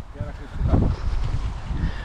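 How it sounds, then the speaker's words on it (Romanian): Strong wind gusts across a lake with big waves, buffeting the microphone in a low, rumbling roar that swells and eases over a couple of seconds, with a voice faintly present. "bate vântul cu draci, valuri mari."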